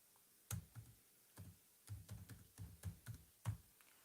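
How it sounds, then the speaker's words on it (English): Keys click on a laptop keyboard in short uneven bursts, faint and close, with pauses between clusters of taps and no speech. "Let me type it in."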